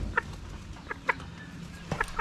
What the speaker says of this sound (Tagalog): Tignan natin yung ibang mga manok natin.